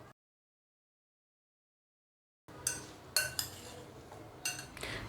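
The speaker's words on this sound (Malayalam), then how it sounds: "ഇത് നല്ലോണം ഒന്ന് മിക്സ് ചെയ്യുക." Sliced raw banana mixed with turmeric, chili powder and salt in a bowl: after a silent start, a spoon clinks and scrapes against the bowl several times in short, close clatters.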